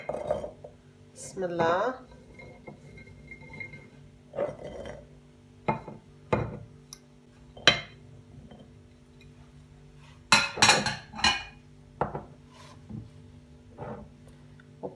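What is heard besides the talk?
chilli peppers put into a glass jar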